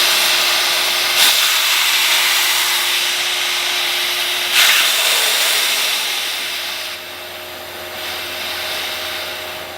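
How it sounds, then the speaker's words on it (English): Compressed air hisses steadily as it is slowly bled out of an Air Venturi 4500 PSI air compressor, a loud continuous rush with a couple of sharp bursts and a steady tone underneath, easing off near the end. "So I'm going to bleed some air out of this to see if there's any more stuff to come out."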